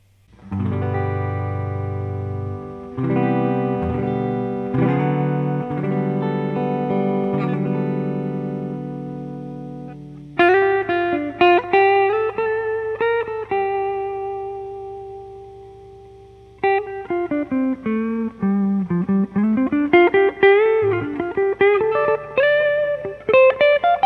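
Clean Epiphone Joe Bonamassa 1962 ES-335 electric guitar on neck pickup through a Fender Blues Deluxe tube amp, no pedals, first sustained chords then single-note melodic lines, with repeating delay echoes trailing each note; no talking.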